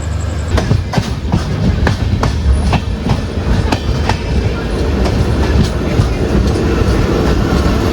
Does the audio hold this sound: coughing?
no